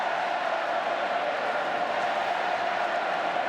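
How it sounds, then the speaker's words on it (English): A large stadium crowd at an Australian rules football match, St Kilda versus Brisbane, roaring in a steady, loud, unbroken wash of cheering. "Listen to the crowd."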